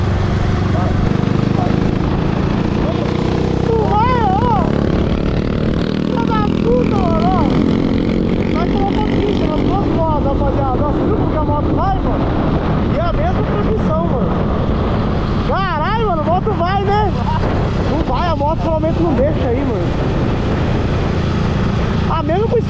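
A Honda Titan 160 motorcycle engine drones steadily in fifth gear at speed, loud and continuous with heavy wind buffeting throughout, while people talk excitedly over it for most of the ride.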